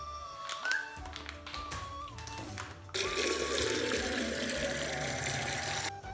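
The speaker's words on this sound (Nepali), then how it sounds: "पानी पनि भरियो।" Water gushes from a tap into a jug with a loud, steady rushing stream that starts partway through after some quieter clatter and continues until near the end.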